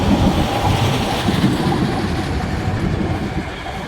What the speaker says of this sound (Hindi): ये जा रही है ट्रेन।